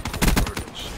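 A quick volley of several gunshots in Black Ops 3 multiplayer, sharp close cracks in a tight burst lasting about a second, heard alone without speech.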